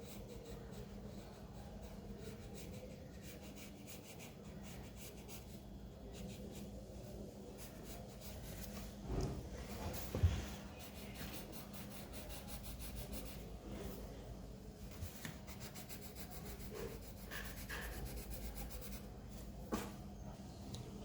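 A pencil rubbed sideways across paper while shading a cupcake sketch, a soft continuous scratchy rasp with faint rhythmic strokes and a few small taps, close and quiet.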